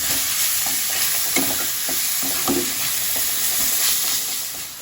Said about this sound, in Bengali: লাউটা আমি ভালো করে নেড়ে নেব।